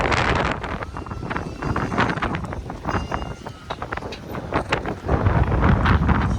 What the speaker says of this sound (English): Windy and cold.